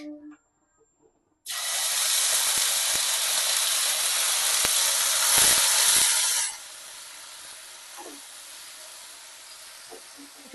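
Green pea paste hits hot mustard oil in a pan with a sudden loud, broad sizzling hiss that holds for about five seconds, then settles into a quieter, steady frying hiss with a few faint clinks.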